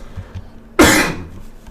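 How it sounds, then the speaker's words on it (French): A single sharp cough close to the microphone from someone starting to feel ill, a harsh burst that quickly fades into quiet background. "je risque de tousser 2-3 fois dans la vidéo parce que je commence à être un petit peu malade je crois"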